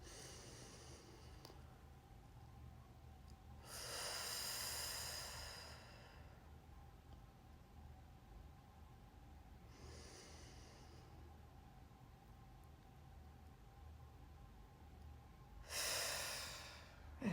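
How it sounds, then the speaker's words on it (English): Slow, deep breaths in and out during an at-home exercise session, three long soft whooshes spaced about six seconds apart over a faint quiet room hum. "Breathes in, breathes out."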